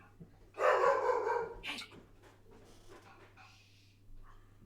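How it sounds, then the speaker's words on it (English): An indoor dog gives a burst of loud barks at people walking past on the street, followed by fainter yips and barks in the background. "Apologies if you heard the dog. His eternal battle with people walking past on the street continues."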